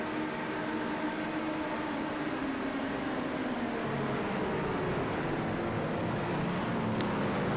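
In the iRacing game, a GTP race car at Daytona drones along, its engine tones easing and shifting in pitch as the driver lifts and coasts, a steady mid-level mechanical whine with no talk.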